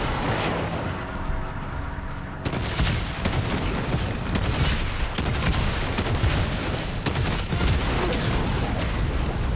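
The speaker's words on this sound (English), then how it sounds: "Heard somebody shooting." Gunfire in the video game Fortnite, dense rapid bursts and booming shots crackling continuously for several seconds, loud and close, with no talk.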